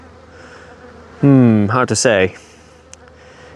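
A loud buzzing drone swells up close for about a second, like a bee passing near, with a voice speaking briefly around it.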